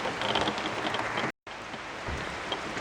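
Steady rain drums on the roof of a small Silver Shadow teardrop camper on a Great Smoky Mountains trip, a dense close patter with a brief dropout partway through.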